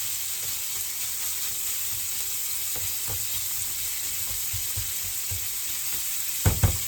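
Bacon frying in a pan until crisp, giving a steady close sizzle and crackle throughout, with a couple of brief louder pops near the end and no talking.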